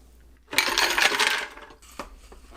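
A handful of ice cubes tumble into the jar of a Breville BBL620 blender alongside pineapple juice, rum and coconut cream, a close, bright clattering rush lasting about a second, followed by a lone later clink.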